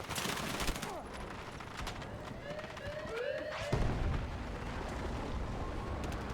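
Explosions and gunfire tear through a destructible battlefield in Battlefield 6, a dense, continuous roar of blasts and shots with a heavy boom near the middle, fairly quiet overall, with a voice speaking faintly underneath.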